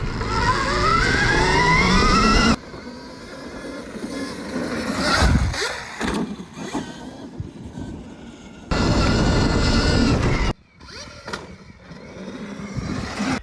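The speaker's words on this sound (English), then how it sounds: "We've got our Stark VARG electric bike. I'm gonna go take some sight laps, see how it is." Stark VARG electric motocross bike running laps on a dirt track, an electric motor whine rising in pitch in bursts as it passes, with wind noise and louder close-up segments cutting in and out.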